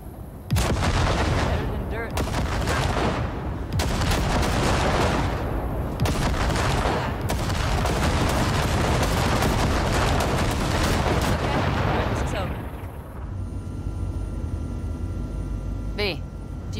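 Heavy gunfire blasting ship wrecks in the video game Cyberpunk 2077, with loud, dense bursts and booming impacts that continue almost without pause, then fade to a quieter hum near the end.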